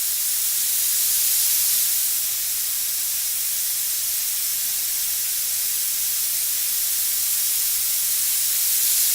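A micro airbrush sprays wide open to flush a dried tip, giving a steady, fairly loud airy hiss that runs unbroken throughout with no voices.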